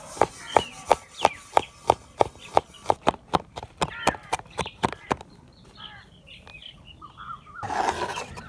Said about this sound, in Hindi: लहसुन की बारीक कटाई करेंगे।